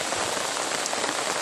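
Steady rain falls on a rural countryside path, a dense, even hiss of drops on surfaces that stays constant throughout with no voices.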